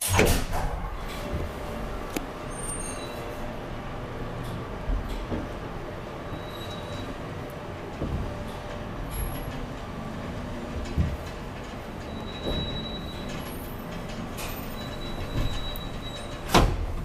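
An old ValmetSchlieren traction elevator in a Lahti apartment building runs with a steady mechanical rumble and hum, broken by occasional clunks, rattles and faint high squeals.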